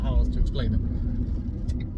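A cheap old £418 car's engine drones at low RPM in third gear while rounding a roundabout: a steady, close low rumble with road noise throughout, and a possible muffled voice underneath.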